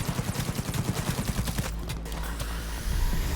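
Rifle fire in the video game Cyberpunk 2077, a rapid burst of repeated loud shots in quick rhythm that stops midway, followed by a low sustained rumble.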